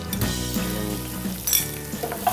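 Shallots frying in hot oil with ginger, garlic, green chilli and curry leaves for a Kerala prawn ularth, a steady close sizzle with occasional stirring and light pan clinks.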